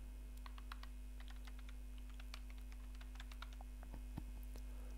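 Computer keyboard keys being typed in quick irregular bursts of clicks, close and moderately quiet over a steady electrical hum, with no voices.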